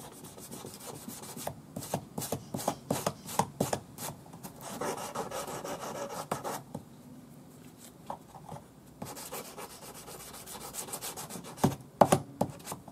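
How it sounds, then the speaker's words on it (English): Quick back-and-forth scratchy rubbing of 400 grade sandpaper on a sanding stick against a metal cigar band ring, close and steady with brief pauses, in bursts of rapid strokes. "400 grade sandpaper on my sanding stick."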